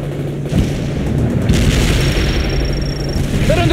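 Heavy booms and gunfire from a war video game mission, with deep rumbling explosions and rattling shots running close and loud throughout, with no voices.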